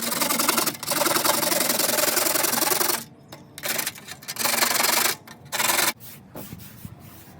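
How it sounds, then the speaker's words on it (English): Rust is scraped off a metal hobo stove in loud, rough, close scraping strokes that come in bursts with short pauses between them. "I'm going to scrape this rust off of here and make a rust fire roll."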